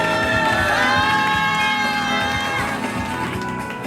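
Crowd at a community rally applauds and cheers with scattered shouts for a school cafeteria cook taking the stage, a lively burst that gradually thins out over a few seconds.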